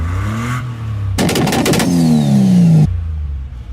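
A van engine idles close by, broken by a loud burst of revving and clattery mechanical noise with a falling whine, before it drops back to a steady idle.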